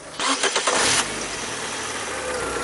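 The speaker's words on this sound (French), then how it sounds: "Comme vous voyez, la voiture elle a redémarré" A car engine cranks and catches on a restart after its battery has recharged, a short loud burst of starter churning that settles into a steady, even idle with no voices.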